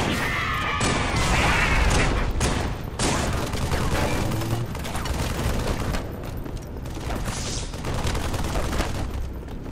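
Gunfire in the Halo 3 video game during a legendary solo campaign, with rapid bursts and repeated shots continuing loudly throughout amid crashes and booms.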